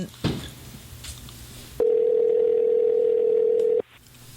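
A steady electronic phone tone sounds once for about two seconds, clear and moderately loud over a faint room background.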